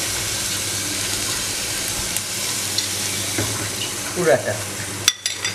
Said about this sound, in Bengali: এখন নারকেলের দুধটা ঢেলে দেব